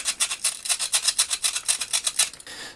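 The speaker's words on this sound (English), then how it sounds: "So I'll just give this a little scrub down, see how much I can get off" Brisk scrubbing on a rusty part from a vintage M.A.S.K. Thunderhawk toy, a close, rhythmic rasp of about fifteen quick back-and-forth strokes, then a short pause with faint rubbing.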